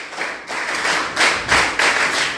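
Group of listeners clapping in unison to a 1-2, 1-2-3 rhythm, several short bursts of claps in repeating groups, clear and close, with no voices over it.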